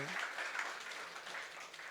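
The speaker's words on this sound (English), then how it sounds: "Big round of applause." A faint, distant burst of applause from a gathering greets prize winners at a youth event. The clapping is soft and continuous, with a few voices mixed in.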